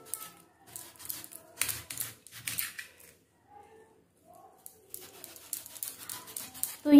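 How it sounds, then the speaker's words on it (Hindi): A knife slices firm taro root (arbi) into rounds, giving a series of close, crisp cutting clicks in irregular bursts with quiet gaps between them, and no voice over it. "तो पहले हम काट लेंगे इसको गोल गोल, और आपको पसंद हो इस तरीके से आप काट सकते हो"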